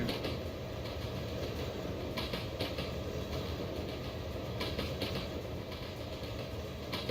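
Train running in a train simulator video game styled like Indian Railways, giving a steady, continuous rumble and rolling noise with faint rhythmic clatter throughout, fairly loud and without speech.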